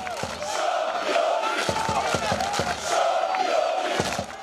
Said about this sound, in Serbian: opet su pjevali s istoka navijači Osijeka